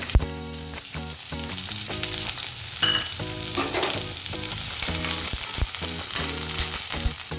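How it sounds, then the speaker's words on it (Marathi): Sliced onion hits hot oil in a kadhai and keeps up a steady crackling sizzle, with rhythmic background music playing throughout and no talking. "कढईत तेल तापायला ठेवलं आहे, त्यात आपण कांदा टाकूया."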